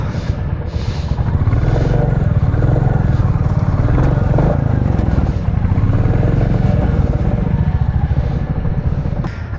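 A Royal Enfield Classic 350 motorcycle runs steadily and loudly up close on busy city roads, its low engine thrum continuous with some rattling clatter throughout.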